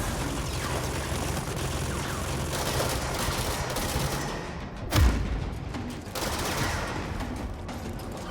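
Dense, steady gunfire in the action game Control, with rapid overlapping shots and automatic bursts filling the scene and one heavy thump partway through.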